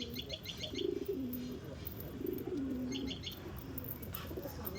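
Soft, repeated cooing of pigeons with a few light chirps, moderately close, over faint background noise.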